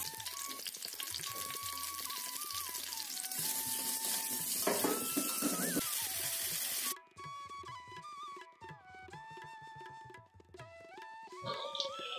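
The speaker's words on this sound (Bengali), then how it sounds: "এইভাবে নেড়ে চেড়ে কিন্তু আলুটাকে বেশ সুন্দর করে ভেজে নিয়েছি" New potatoes with salt and turmeric frying in a pan, a bright continuous sizzle with occasional stirring scrapes, heard under melodic background music that carries on alone once the frying stops.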